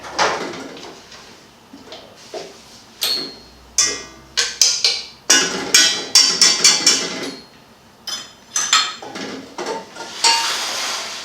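Egg whites being whisked by hand into stiff peaks for a carrot cinnamon cake, with close, bright, irregular clinks and scrapes of the whisk against the bowl in quick clustered bursts and brief pauses.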